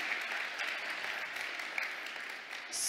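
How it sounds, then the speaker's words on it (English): A conference audience at How to Web 2019 applauds after a talk, a short, even burst of many hands clapping at moderate distance, steady from start to finish with no voices. "A big round of applause before we start the questions."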